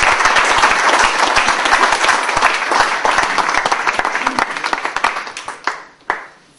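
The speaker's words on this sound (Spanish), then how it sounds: "Vamos a darle un fuerte aplauso." Loud, dense applause from an audience at a rowing association's presentation, honouring an award-winning rower, sustained for several seconds before thinning into a few scattered last claps.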